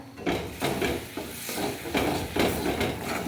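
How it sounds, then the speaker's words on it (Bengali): A spoon stirs curry in a pan after ginger paste goes in. Short scraping strokes repeat in a steady rhythm, close and fairly quiet. "ভালো করে নাড়বো"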